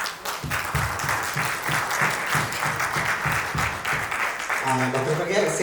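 Audience applause at a health talk event, dense sustained clapping from a crowd that carries through with a slight swell near the end, loud and close.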